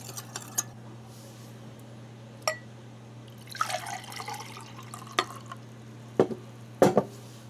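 A spoon stirring liquid inside a leaky pitcher while preparing a German Einmannpackung Type II field ration, a few sharp clinks and drips with a short swirl of liquid over a low steady hum.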